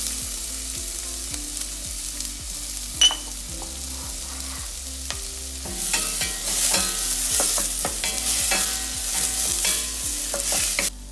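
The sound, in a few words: onion sizzling in extra virgin olive oil in saucepan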